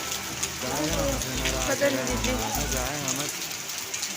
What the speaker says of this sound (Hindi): इस टाइम बारिश लग रही है बड़े ज़ोरों शोरों से